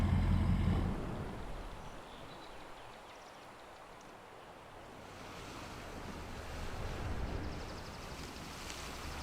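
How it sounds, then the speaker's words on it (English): Geysers and mud pots at Yellowstone's West Thumb Geyser Basin give a broad, steady rushing hiss like distant surf, with wind buffeting the microphone and the level swelling and easing slowly. "All that noise is all the geysers and stuff."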